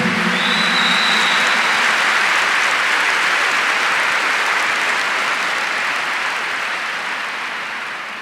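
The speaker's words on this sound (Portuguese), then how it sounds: "Give the Lord a big clap for that." A church retreat congregation claps together in a long, loud, steady round of applause that slowly fades toward the end, with no talk over it.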